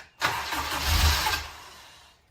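A Honda K20 engine swapped into a Mazda Miata cranks and catches briefly, a loud, rough, rumbling burst that swells and then fades away, with no speech over it.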